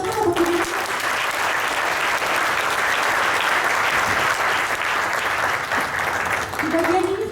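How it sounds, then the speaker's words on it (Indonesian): Sustained audience applause at a Prudential business event in Indonesia, dense steady clapping filling the room at a loud level for several seconds, with a brief voice surfacing at the start and end. "Tepuk tangan untuk Prudential."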